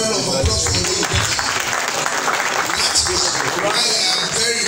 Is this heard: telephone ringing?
no